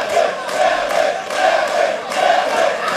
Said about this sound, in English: The crowd is going ecstatic.